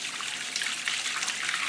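Water pouring from an inlet into a catfish pond on a fish farm, a steady bright trickling splash that is close and constant, with no voices.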